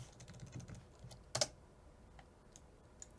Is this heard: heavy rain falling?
no